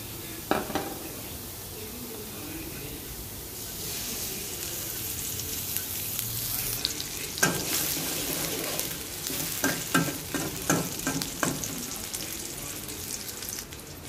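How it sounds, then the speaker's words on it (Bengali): Garlic and onion fry in hot oil for a tempering, with steady close sizzling throughout and bursts of stirring and utensil clinks, plus occasional water running from a tap. "বাগার দিব, রসুন আর পেঁয়াজ দিব"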